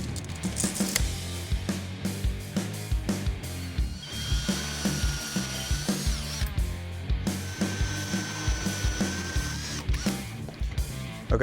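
Holes cut in a Toyota 4Runner plastic bumper cover with a power tool, close rattling and chattering bursts with rising whine in stretches, steady and loud throughout with no talking.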